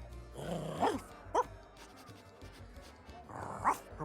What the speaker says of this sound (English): Oh, the dog says his own name.